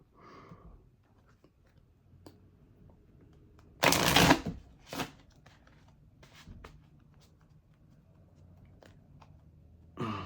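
A deck of cards riffles in one quick burst, followed by a brief second flutter, then soft handling noises and quiet breathing nearby.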